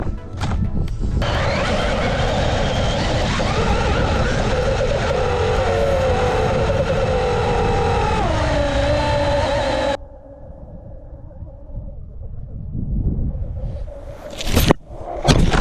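A small RC car with paddle tires drives loudly through sand, its motor whining steadily and close for about ten seconds, then dropping to a quieter rumble with gritty scuffs and a couple of sharp bumps near the end.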